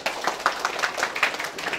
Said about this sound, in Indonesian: tepuk 1, tepuk 2, tepuk 3, tepuk 4, tepuk tangan